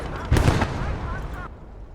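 A tank shell fires in a World War II strategy video game, a single heavy boom that rumbles and fades over a second or so against game background noise.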